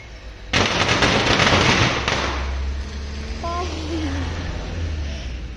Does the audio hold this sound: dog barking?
no